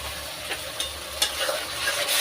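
Frying food in a pan just after salt goes in, with ginger, garlic, green chilli and tomato for a lobia dish: a steady broadband sizzle with a few brief stirring scrapes, close and moderately loud, no talking.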